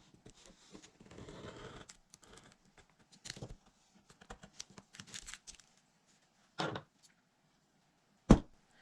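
X-Acto knife slicing pieces out of a plastic page protector, close-up soft scratchy strokes and crinkles in short bursts, followed by two sharper isolated crackles of the plastic near the end.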